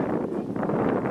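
Wind gusting across a microphone outdoors near a construction boat, a dense rumbling roar that holds steady and loud through the whole short stretch.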